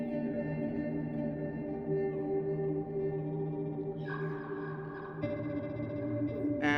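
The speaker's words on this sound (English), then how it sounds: "it goes into 2 micro loopers and into like an ambient reverb kind of thing here" Granular particle sampler on a synth-fair stand, fed through two micro loopers into an ambient reverb, producing steady layered drones with shimmering tones that shift partway through and brighten near the end.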